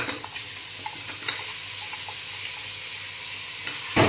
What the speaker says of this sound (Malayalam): ഇനി നമ്മൾ റെഡിയാക്കി വെച്ചിരിക്കുന്ന മട്ടൻ ഇതിലേക്ക് ആഡ് ചെയ്ത് കൊടുക്കാം.